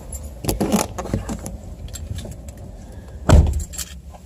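Someone getting into a car, with keys jangling, a couple of rustling scrapes and a solid thump of a door or seat up close, no talking.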